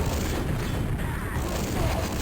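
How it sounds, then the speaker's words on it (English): In a Quakeworld duel, a grenade explodes as a rocket hits at the same moment, producing a dense, loud, sustained roar of blast noise that fills the whole moment without a break. "he jumped onto an exploding grenade and got hit with a rocket at the same time"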